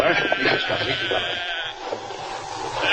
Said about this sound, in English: There are several sheep huddled together.